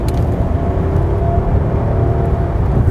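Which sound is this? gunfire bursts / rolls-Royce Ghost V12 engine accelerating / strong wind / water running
rolls-Royce Ghost V12 engine accelerating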